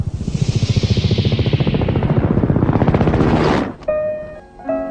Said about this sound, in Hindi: तो देखा हेलीकॉप्टर है।